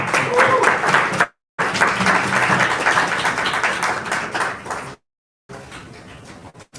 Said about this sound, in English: All right, let's give her a round of applause.